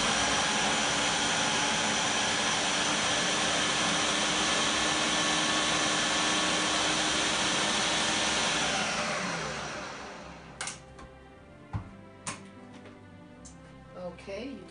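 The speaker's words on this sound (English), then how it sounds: "I'm going to blend the sugar and the butter together" Electric mixer blending sugar and butter for Christmas cookies: a loud, steady motor whir holding for about ten seconds, then winding down and cutting off, followed by a few sharp clinks and knocks.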